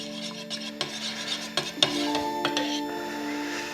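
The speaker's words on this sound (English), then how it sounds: "If we stir that up, get a little bit richer red color." Homemade fake blood mixture being stirred in a container: a steady run of scraping, rubbing strokes with a few sharper clinks, close and fairly clear.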